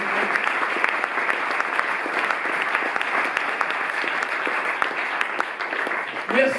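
A concert crowd at Bal Blomet in Paris applauds during a show, with steady, energetic clapping filling the whole stretch and a brief swell at the very end.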